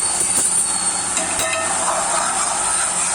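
Grated coconut sautéing in ghee in a pan for a Saptha Manjari cake sweet, giving a steady, dense hiss that runs the whole time with faint scraping ticks.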